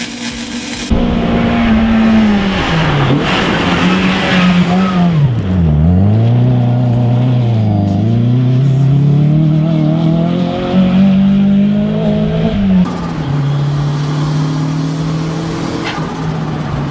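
A custom-fabricated, tuned car drives and revs hard, its engine note climbing and dipping through repeated throttle sweeps, loud and close, with a brief tire squeal.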